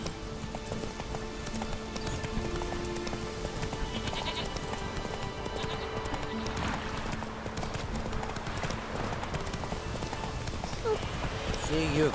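Roach the horse gallops in The Witcher 3, a steady clip-clop of hooves running throughout amid busy game ambience and other animal bleats, with talk heard over it.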